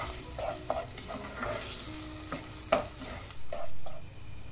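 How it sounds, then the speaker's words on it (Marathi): Barnyard millet, washed and then sautéed in ghee in a pan until lightly pink, sizzles steadily while a spoon stirs and scrapes through it in irregular close strokes, with no talking. "आता हे आपण तुपावरती ना छान परतून घेऊया थोडस गुलाबट होईपर्यंत"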